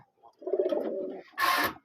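A Bombay crested pigeon coos nearby in a low, rolling burst, followed by a brief flutter or rustle and a short close-up call.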